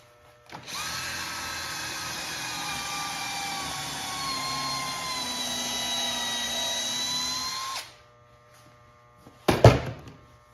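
A power drill drives 2.5-inch zinc screws into a scrap wood frame for an indoor table, one long steady whine of about seven seconds, then a brief clatter after a pause.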